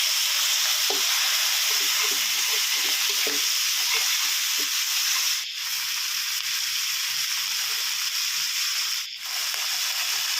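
Steady frying sizzle of chicken noodles being stir-fried with sweet dark soy sauce in a wok, with scraping and stirring clatter from a utensil, close and continuous, with a couple of brief knocks.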